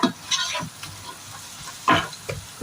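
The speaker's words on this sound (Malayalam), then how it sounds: "പുതിനയിലയും ഇത് നന്നായിട്ട് മിക്സ് ചെയ്ത് കൊടുക്കാം." Masala with coriander and mint leaves fries in oil for chicken biryani while being stirred, giving a steady close sizzle with a few scraping stirs of a spoon against the pan.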